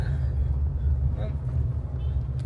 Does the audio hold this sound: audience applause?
no